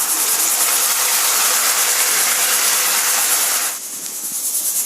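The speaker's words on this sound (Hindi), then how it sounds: "इसमें डालता हूँ प्याज की प्यूरी" Onion puree hits a hot pan for Punjabi rajma masala, setting off a loud, steady sizzling hiss that drops slightly in strength toward the end.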